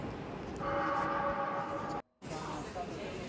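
A busy train station with around 20 platforms in Venice: a continuous loud rumble of crowd and rail noise with a sustained tonal horn-like drone, then a brief sudden cutout before the ambience resumes.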